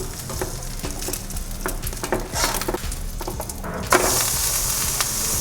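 Moong dal bun dosa sizzles steadily on a hot pan after being flipped, a continuous close frying hiss with small crackles and a brief louder scrape or clatter partway through, no talking.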